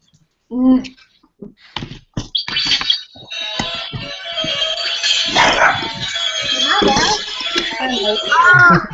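Dogs barking indoors during a crafting hangout, several sharp barks and yips over the first seconds, followed by a sustained high-pitched electronic tone with people talking and exclaiming over it.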